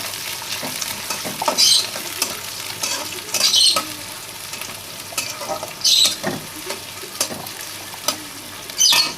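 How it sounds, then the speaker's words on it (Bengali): A large chopped onion fries in oil with a constant close sizzle, broken every couple of seconds by short, louder bursts of stirring. "আর এখানে আমি বড় সাইজের একটা পেঁয়াজ আমি কেটে নিয়েছি এগুলো তেলের ওপর দিয়ে দিলাম ভালো করে ভাজবো এটা"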